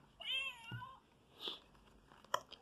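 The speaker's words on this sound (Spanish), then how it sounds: "cuando lo abren, este tiene un sensor que nos hace sonar un gato" An electronic cat meow plays from a sensor in an Exploding Kittens card game box as it opens: one clear, fairly quiet meow, then a few faint clicks and taps.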